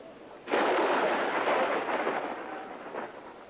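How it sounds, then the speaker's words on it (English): Thunder from a storm at the US Open golf tournament near Chicago in 1975 breaks in as a sudden loud rumbling crack that rolls on and slowly fades over several seconds. "In June, the US Open near Chicago ran into stormy weather."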